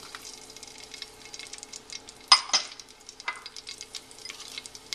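Green chilies hiss and crackle in hot oil in a pan while being stirred, with steady fine sizzling and a sudden louder spitting burst midway, close up and without talk.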